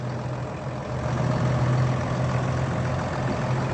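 Six-cylinder diesel engine of a Solis 130 tractor idling nearby, a steady low throb that grows slightly louder after the first second and holds even, with no talking.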